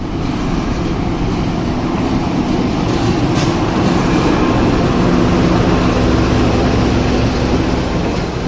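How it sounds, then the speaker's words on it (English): A heavy mainline train rumbles steadily and loudly close by as it is shunted at Tunis Central Station, a continuous low roar with no voices over it. "here's a mainline train being shunted about at Tunis Central Station"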